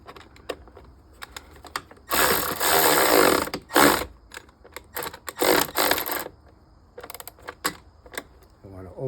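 A ratchet wrench fitted with a 7mm socket clicks in short close bursts, with a long run of rapid ratcheting in the middle, while someone talks intermittently.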